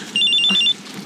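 A cellphone ringtone trills in a short burst of rapid electronic warbling, bright and close, lasting about half a second before stopping.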